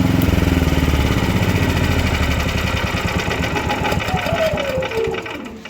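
A WEIMA WM6000EI 6 kW inverter generator engine runs with a fast, rough mechanical pulsing that slowly eases and fades toward the end as it is shut down, with a faint voice in the background.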